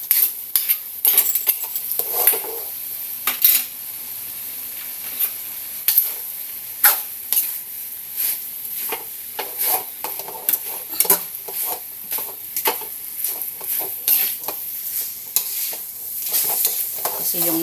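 Noodles for a simple tuna pasta being sautéed and stirred in a pan, with a steady sizzle under repeated scraping and clinking of a utensil against the metal, lively and close throughout.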